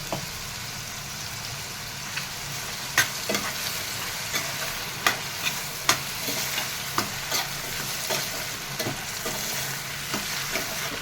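Cucumber curry with bottle gourd and tomato cooks in a pan while a spoon stirs it, producing a steady soft sizzle punctuated by repeated sharp scrapes and taps against the pan at irregular intervals.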